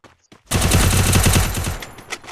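Rapid automatic gunfire in the mobile shooter game Free Fire: a loud, dense burst that starts abruptly and runs for nearly two seconds, with a couple of faint shots just before it and no talking.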